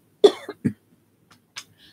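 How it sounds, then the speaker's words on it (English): A few sharp coughs close up, two or three in quick succession, followed by a softer cough after a brief pause. "I'm really coughing a lot today."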